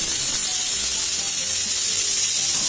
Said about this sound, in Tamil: அதுவும் விசில் வந்துருச்சு.